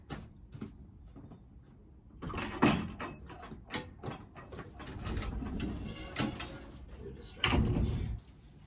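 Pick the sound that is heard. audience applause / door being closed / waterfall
door being closed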